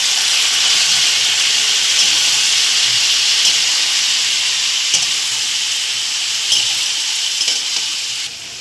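Papaya and potato pieces sizzle steadily in a hot pan, a loud continuous frying hiss with faint stirring scrapes, close by and without talk.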